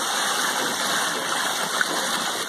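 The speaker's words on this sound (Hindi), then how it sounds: "ये देखिए पानी निकालने की प्रक्रिया" Water gushes steadily from a leather-bucket (charas) irrigation well in a farm setting, a continuous broadband rushing and splashing that stays loud and even throughout, with no voices over it.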